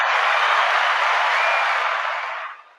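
Canned applause played back by a radio host in a basement studio, a steady dense wash of clapping for nearly three seconds that tapers off at the end, with no voices over it.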